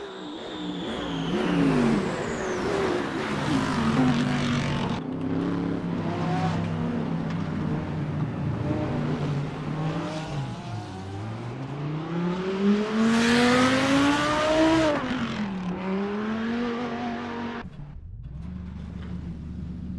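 Ferrari race car engine in a racing video game, GT World Challenge round at Spa-Francorchamps, roars loudly and continuously, revs climbing and dropping through gear shifts, with a brief lull near the end.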